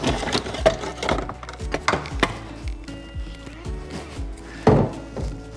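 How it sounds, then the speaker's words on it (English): Clunks, knocks and plastic scraping as the plastic fan shroud is worked out of a BMW E53 X5 engine bay with the M54 engine, a series of irregular close thumps and rattles with one sharper knock near the end. "Now we can take the shroud out."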